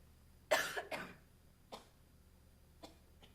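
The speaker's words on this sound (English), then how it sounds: "Sorry, I need to cough." Several sharp coughs from a lecturer indoors: a strong double burst, then two fainter single coughs spaced out over a few seconds, with quiet room hiss between.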